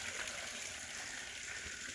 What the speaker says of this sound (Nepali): पानी कलल्ल झर्दा छ।